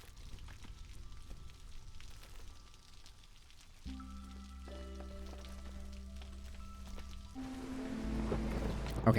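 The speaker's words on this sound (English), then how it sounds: "Okay, so now we are officially in drizzle." Light drizzle in the video game Against the Storm, a soft continuous patter of rain that holds steady throughout, with sustained game music tones entering partway and building toward the end; no one speaks.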